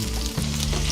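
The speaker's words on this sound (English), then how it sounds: "First thing going in, my onions." Onions sizzle loudly in hot cooking oil for chow mein, a dense steady frying hiss heard close up and alone.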